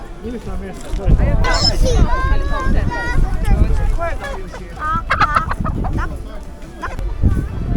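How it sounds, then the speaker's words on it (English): Chickens cluck and squawk at a packed outdoor flea market in Croatia, loud close calls rising over a busy crowd with people talking throughout. "Oh, there's a chicken wandering around."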